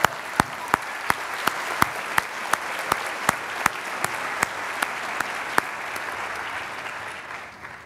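Applause at a Duke Engineering Master of Engineering Management graduation ceremony in 2018, a dense, steady roar of many hands clapping with a few sharper claps standing out, gradually thinning toward the end.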